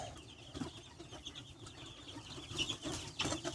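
Young hens cluck softly in a brooder pen, with scattered short clucks and low chirps repeating throughout at a modest distance.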